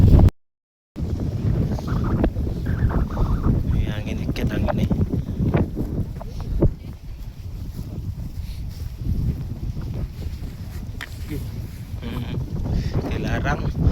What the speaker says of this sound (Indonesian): Angin dikit, angin nih.